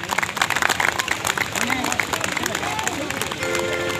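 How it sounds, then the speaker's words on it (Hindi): An audience claps at a welcome ceremony for a chief guest in Namkum, Ranchi, with dense continuous applause and crowd hubbub under loud nearby talk. "ताली बजते रहना चाहिए।"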